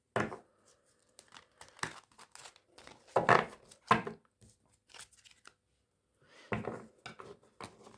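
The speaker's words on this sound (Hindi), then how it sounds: "अब मैं आपके लिए गाइडेंस का कार्ड निकाल लेती हूँ, पाइल 1।" Tarot cards are shuffled and drawn from a pile, giving close crisp rustles, flicks and papery crinkles in scattered bursts separated by short silences, with no talking.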